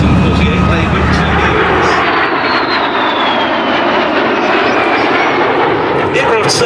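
A MiG-15UTI and a DH Vampire jet fighter fly at a Duxford airshow, producing a loud continuous jet roar that shifts in pitch as they pass, with a commentator's voice over the noise.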